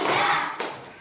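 Children in a classroom clap during a counting clap game, a quick burst of hands striking together, then one sharp clap before it fades.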